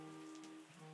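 Steady rain falling on surfaces in a vineyard wine-making simulation game, a soft continuous patter under faint tonal game music, with no talking.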